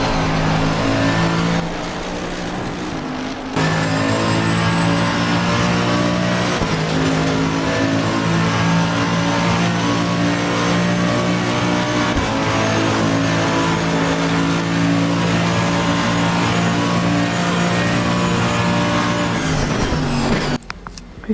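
Race cars, a Lamborghini among them, in a single-player racing video game: loud sustained engine whine rising and holding steady through slipstreaming and corners, with a brief dip early, and no voices.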